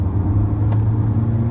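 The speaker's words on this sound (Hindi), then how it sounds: "अब एक बार स्पोर्ट्स मोड मैंने ले रखा है, एक बार भगा के देखूं कैसी है।" Steady low engine drone and road rumble from a 2024 Kia Sonet facelift HTX diesel automatic in sports mode on an open road, heard from inside, constant and fairly loud with no talk.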